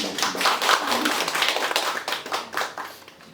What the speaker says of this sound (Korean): 여러분 큰 감사의 박수 부탁드리겠습니다